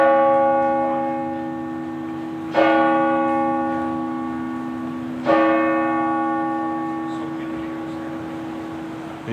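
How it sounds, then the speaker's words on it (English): Church bells ring out in a Cardiff street, three slow, resonant strikes, each one ringing and fading before the next, loud and near over faint background. "The chimes, the bells have tolled."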